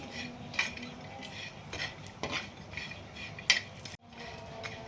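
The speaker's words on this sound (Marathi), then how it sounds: "आता आपण खोबरं भाजून घेऊ खोबरं पण आपल्याला थोडंच भाजायचं आहे" Grated coconut dry-roasting in a pan for a Maharashtrian masul vadi dish, heard as a soft dry rustle under a few sharp metallic clinks of a spoon against the pan, with no one speaking.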